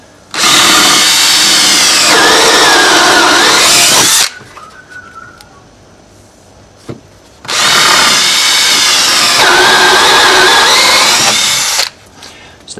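Power drill with a counterbore bit boring into a wooden joist, two loud, sustained whining runs of about four seconds each, separated by a quiet pause with small handling noises.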